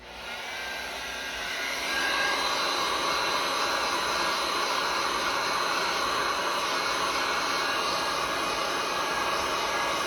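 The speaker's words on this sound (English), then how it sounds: "I'm just gonna flash it really quick, enough so that it will, you know, not so much dry it, but at least the top skin will be kind of dry" A heat gun or dryer blows hot air over resin coasters to set the top skin. It gives a steady, loud, continuous whooshing hiss that swells slightly in the first two seconds and then holds even.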